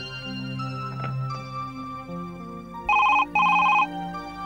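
An outgoing phone call ringing, two short electronic ring bursts with a brief gap between them, heard clearly over a sustained low musical background with no talking.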